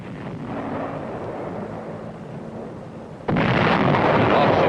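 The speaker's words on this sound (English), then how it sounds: "the artillery threw in white phosphorus shells" Artillery fire with white phosphorus shells exploding in a wartime combat engagement, a steady rumbling roar that bursts into a much louder, harsher blast about two-thirds through and stays loud to the end.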